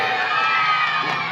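Crowd of villagers at an evening event on an outdoor field cheering and shouting together in a loud, continuous roar with children's voices mixed in.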